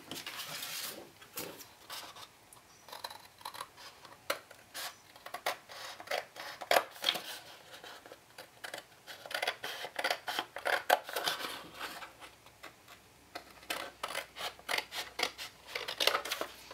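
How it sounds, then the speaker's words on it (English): Scissors snipping and rasping through tape during a craft layout, close and fairly quiet, with repeated short cutting strokes in uneven bursts separated by brief pauses. "I'm actually just going to use scissors to make it"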